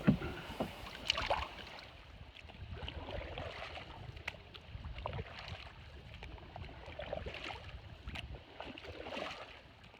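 A canoe ferry paddling across the Kennebec River, with soft paddle strokes and water lapping against the hull over a light breeze, steady and fairly quiet with no talking.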